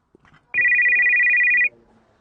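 A phone ringtone sounds loudly for about a second, a steady warbling electronic tone that starts abruptly and cuts off, with faint background noise around it.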